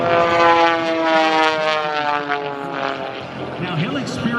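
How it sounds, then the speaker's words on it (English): A propeller airplane making a diving start down the runway at an air show, a loud steady engine drone with strong harmonic tones throughout, slowly easing slightly and then swelling again near the end. "Kirby is going to have a diving start. If he wants to, he can get up close to 275 miles per hour in this airplane."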